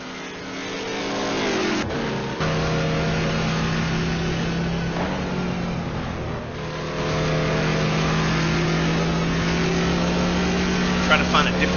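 Race car engines accelerating at Le Mans in a racing video game, a loud sustained engine drone that climbs in pitch, with a commentator talking over it.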